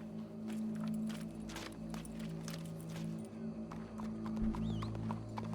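In Red Dead Redemption 2, hooves clip-clop at a steady walking pace over a low, continuous ambient hum, with a brief whinny near the end.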